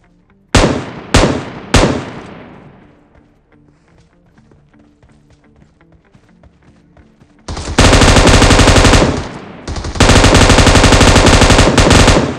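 Automatic gunfire in the mobile battle royale game PUBG Mobile: a few loud, sharp shots early on, a quiet stretch with faint game sounds, then long, loud sustained bursts of rapid fire.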